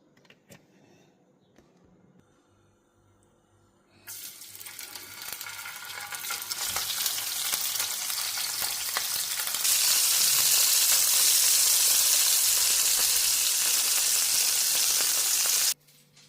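Spiced eel coated in turmeric, chilli powder, salt and oil, frying in hot oil. After a quiet start a loud, steady sizzle bursts in, grows harsher and denser midway, then cuts off abruptly near the end.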